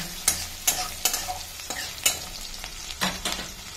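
Onions frying in a pan with a continuous sizzle and repeated quick spatula scrapes and taps, close and fairly busy, with no voices.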